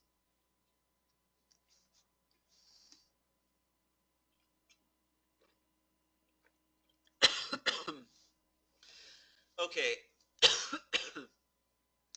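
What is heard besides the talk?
person coughing repeatedly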